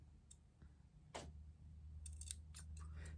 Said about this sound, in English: And snip on the line